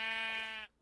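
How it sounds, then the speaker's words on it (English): A sheep in Minecraft gives a single short, buzzy, nasal bleat, steady and fairly loud for most of a second before cutting off abruptly. "we have water sheep."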